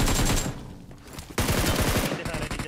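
Rapid automatic gunfire in a competitive shooter game, fired through smoke: dense bursts of shots in two loud volleys separated by a brief lull, with no talk.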